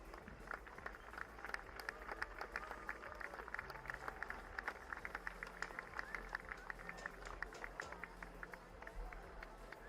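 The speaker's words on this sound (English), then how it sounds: "Let's give them a round of applause," A crowd at a BMX racing world challenge event applauds steadily, a continuous patter of many hands clapping at a distance with a faint crowd murmur underneath.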